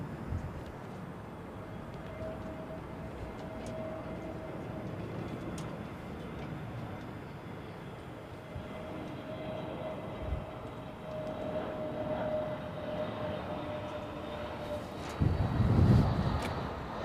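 A jet airliner passes near Heathrow with a long, steady roar that holds for the whole stretch without fading much, loud and continuous with no talk.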